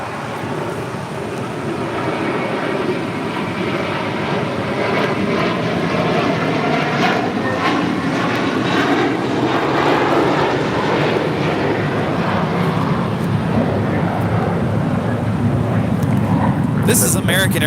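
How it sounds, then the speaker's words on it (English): An American Airlines Airbus A321 takes off from LAX bound for JFK, a loud, steady jet roar that builds and holds throughout, with wind buffeting the microphone and people talking nearby. "This is American Airlines 307 taking off to JFK on an A321."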